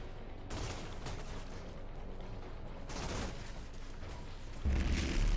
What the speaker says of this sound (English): Shoot him in the back with a shotgun shell.